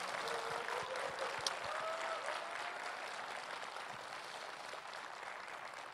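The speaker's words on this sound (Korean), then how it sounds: "이럴 때 박수 한번 쳐주시면 안 되겠습니까?" Crowd applause at a Korean political rally, a broad, even roar of many hands clapping, heard faintly and at a distance, sustained throughout without speech.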